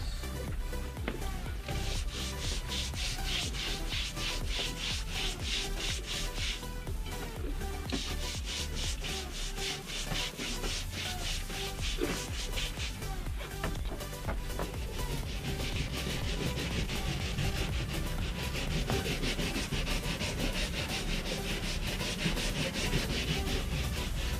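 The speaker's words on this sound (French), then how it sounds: "on passe la brosse." A brush scrubs a boat's teak deck with cleaning product, making continuous close rhythmic rasping strokes, back-and-forth, loud and steady throughout, with no voices.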